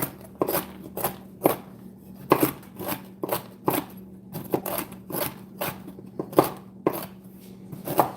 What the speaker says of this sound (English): I'm just going to chop them up.